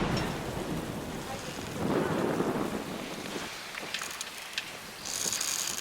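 A thunderstorm squall at sea on a sailing boat brings heavy rain and gusting wind buffeting the microphone, with a deep rumbling swell partway through and a hissing downpour continuing steadily.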